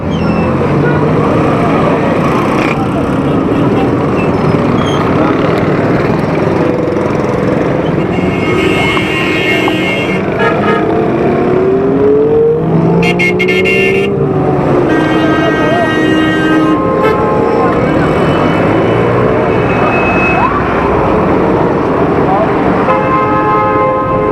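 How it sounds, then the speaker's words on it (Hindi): A jammed city street roars with dense engine noise and repeated car horns, some long tooting blasts and bell-like tones rising through the din, with voices mixed into the crowded traffic. "ये ट्रैफिक भी जाम हो रही है"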